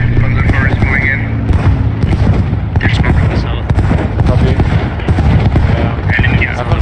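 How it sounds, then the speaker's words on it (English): Gunfire and explosions from a World War II video game battle fill the scene with dense, continuous crackling shots and booms, while voices talk over the din throughout. "I hear shots down here again"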